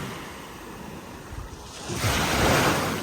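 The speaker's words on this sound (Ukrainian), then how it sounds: "Трішки шуму моря вам." Sea waves rolling onto the beach at Kurortne, a steady wash of surf with wind buffeting the microphone, swelling louder as a nearby wave breaks and spreads over the shore.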